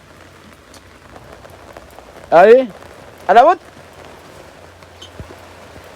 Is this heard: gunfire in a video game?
no